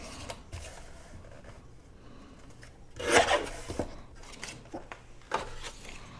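Paper being trimmed for an envelope, a few quiet close scraping cuts with one louder rasping stroke in the middle amid soft rustling.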